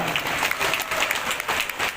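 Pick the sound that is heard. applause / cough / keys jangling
applause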